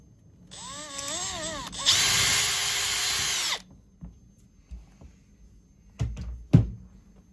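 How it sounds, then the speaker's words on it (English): A power drill with a 1/8 inch bit whines up to speed, then runs a sustained high-pitched bore into material, followed by several scattered thunks and clunks. "Pre-drill each hole with a 1/8 inch drill bit"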